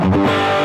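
An overdriven electric guitar through a Headrush pedalboard on its default overdrive setting rings out as one sustained, fizzy, distorted chord, loud and close with no talk.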